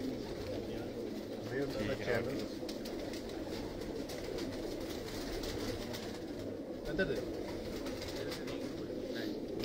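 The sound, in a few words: pigeons cooing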